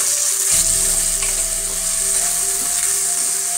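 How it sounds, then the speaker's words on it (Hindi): Spiced chicken frying in a pan with black pepper, red chilli, turmeric and salt, sizzling steadily and loudly throughout with stirring scrapes on top, no voices. "हम इसे इस तरीके से भून भून कर पकाएंगे"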